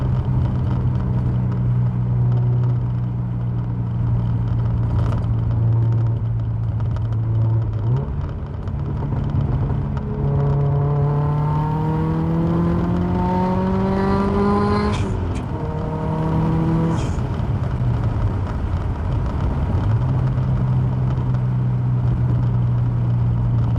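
Subaru Forester STI fitted with a big turbo accelerates hard in first gear, its engine note rising steadily through the revs, then easing off and climbing again, loud and droning from inside the car with no talking.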